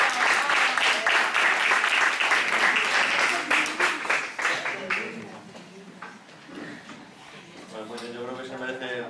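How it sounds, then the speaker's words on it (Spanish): Audience applause at a school debate league event in Alicante, dense clapping filling the first half then thinning out, with a voice speaking over the fading claps toward the end. "yo creo que se merecen todos un fuerte aplauso"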